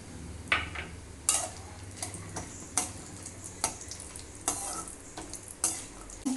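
Cashews frying in a pan for a Kodo millet vegetable pulao, stirred with a series of sharp scraping strokes over a soft, steady sizzle, close and fairly quiet.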